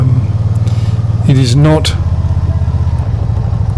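Motorcycle engine with road tyres running steadily close by, a low continuous rumble throughout, with brief talk near the middle partly over it.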